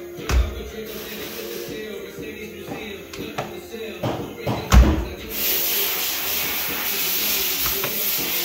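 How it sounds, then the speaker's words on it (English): A few muffled thuds and clicks, including one solid heavy door shut of a vintage Mercedes W109 280SEL near the middle, followed by a steady hiss of background noise. "That's how a door is supposed to close, okay?"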